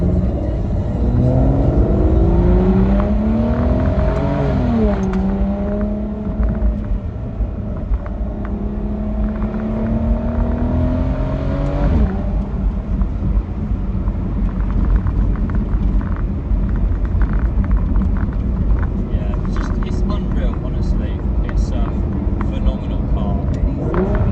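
Engine and exhaust of a 2009 Aston Martin DBS 5.9 V12 Volante in manual mode on a test drive with the roof down, a deep loud drone rising and falling with revs and gear changes, with wind noise and someone talking over it.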